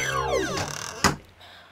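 A fridge door swinging open by itself in a horror game, heard as a descending creak followed by a sharp thud near the one-second mark, then a quiet hum.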